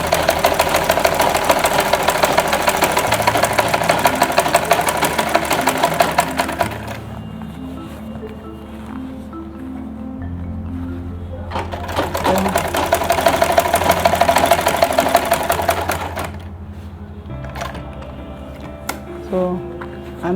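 A sewing machine stitching fabric for a lunch bag with a long belt runs in two long, steady bursts separated by a pause filled with a lower mechanical hum.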